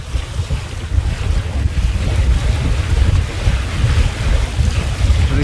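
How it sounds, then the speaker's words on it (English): Steady wind noise buffets the microphone with a low rushing of water along the hull as a sailboat runs briskly at about seven knots near Woody Island, continuous and loud. "we're having a cracker of a sail coming down towards Woody Island in front"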